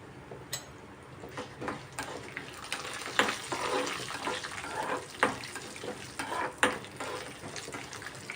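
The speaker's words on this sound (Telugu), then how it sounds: "ఇవన్నీ బాగా వేగనివ్వాలి." Peanuts and other ingredients for rava pulihara frying in oil in a pan, giving a steady crackling sizzle with irregular louder pops and spatters, close up and without talking.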